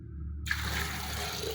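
Water is poured over Indian gooseberries in a clay pot, a steady, close rushing stream that starts abruptly and continues without pause.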